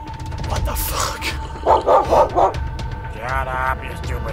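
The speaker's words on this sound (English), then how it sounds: "Shut up, you stupid dog." A dog in a point-and-click game barks and yips in a quick run of four sharp barks, then gives a drawn-out whine, loud and close over a low background rumble.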